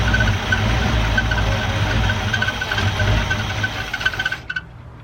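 A 1973 Ford Mustang engine runs at a rough, steady idle after starting, then stalls and falls silent near the end.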